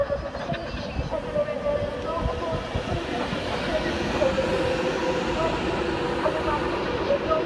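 A Class 390 Pendolino electric train departs Wigan North Western station, its low rumble and wheel noise building steadily and growing louder as it pulls away.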